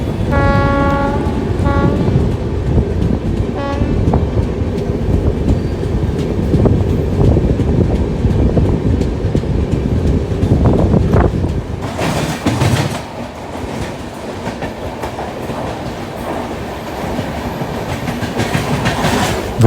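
Heard from inside a non-AC coach of the Darshan Express 12494 between Vadodara and Surat, the train runs with loud continuous wheel rumble and rhythmic clacking, a horn sounding early, then a brief rushing swell.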